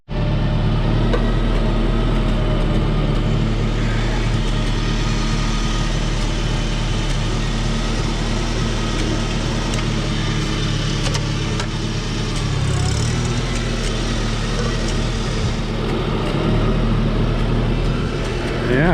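A Super C tractor with a newly installed engine runs steadily while being driven, giving a continuous loud mid-range drone with slight variations in load throughout.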